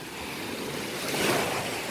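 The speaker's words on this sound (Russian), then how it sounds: "Каждый день в одном месте, да, уже несколько дней подряд я вам показываю море." Sea waves wash onto the beach at Vityazevo in Anapa, making a steady, close roar of surf with wind buffeting the microphone and no voices.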